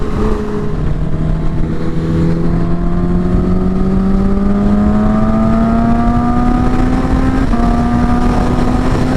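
A 2019 Kawasaki Ninja H2 Carbon fitted with a Vandemon exhaust roars at speed, its loud supercharged engine note climbing steadily through a long pull with a brief dip near the end, continuous and close.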